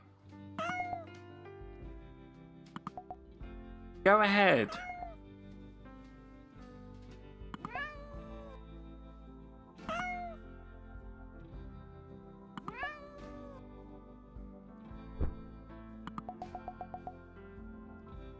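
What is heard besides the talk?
kitten meowing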